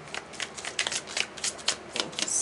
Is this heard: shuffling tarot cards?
yes